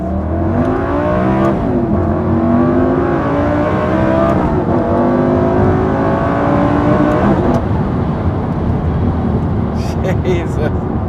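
A Lamborghini Superleggera sports car's engine revving and accelerating on a road trip, loud sustained engine roar with rising and falling pitch sweeps as it climbs through gears, heard from inside the car with a person talking over it.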